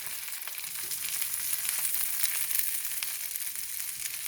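Sockeye salmon sizzles steadily in infused butter in a pan, a dense, close frying hiss with faint crackles and light stirring, no voices.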